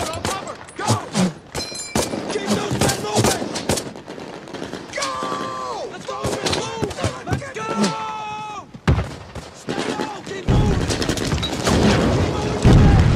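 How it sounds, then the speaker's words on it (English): Wartime gunfire shootout from the Band of Brothers series, dense rapid shots and booms mixed with shouting voices, ending in a louder noisy burst. "Shoot out!"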